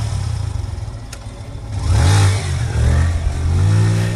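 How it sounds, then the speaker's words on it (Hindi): A motorcycle engine rumbles up close, swelling from a low idle into a loud revving roar that holds steady, with no voices. "हेडलाइट की चमक और इंजन की गड़गड़ाहट ने माहौल बदल दिया।"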